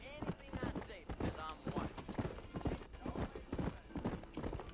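Horse hooves clip-clop at a steady trotting rhythm in Red Dead Redemption, a dense run of close, crisp hoof strikes with a horse whinnying and a voice talking over them.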